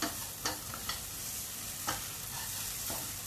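Food rattles and scrapes in a hot pan as it is stirred while being dry-roasted until slightly charred, with a steady sizzling hiss and occasional utensil knocks.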